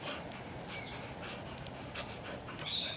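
Pet dog playing with a tennis ball, giving a few soft high-pitched whimpers and whines over a faint background, fairly quiet and with no talking.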